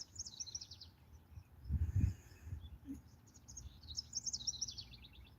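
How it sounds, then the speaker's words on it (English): Faint birds chirping in short rapid trills at the start and end, with a low rumbling thump in the middle; no voices. "The birds. I don't know if you guys can hear them."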